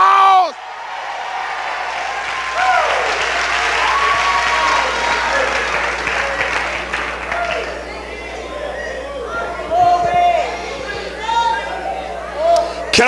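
A church congregation clapping and shouting glory, a sustained wave of applause and cheering that swells, then thins into scattered whoops, exclamations and chatter, loud and close with voices throughout.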